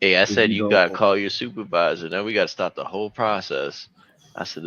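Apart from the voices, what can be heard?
No everyday noise stands out behind the speech.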